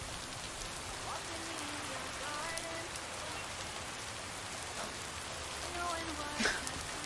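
Steady rain patters on surfaces throughout in a video game, Lake, a constant even hiss with a few scattered louder drips.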